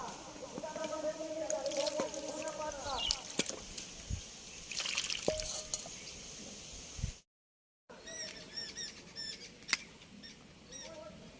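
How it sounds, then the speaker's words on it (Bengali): Water trickles and splashes over roasted ripe bael fruits as they are rinsed by hand, close and soft with small patters and drips, and a brief silent gap near the end. "বেলগুলো এবার জল দিয়ে ধুয়ে নেব"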